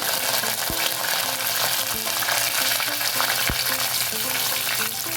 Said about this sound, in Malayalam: കടുക് ഒന്ന് പൊട്ടി വരുമ്പോൾ, കടുകൊക്കെ പൊട്ടാൻ തുടങ്ങി. ഇനി അതിലേക്ക് 2 ചുവന്ന മുളക്, കുറച്ച് കറിവേപ്പില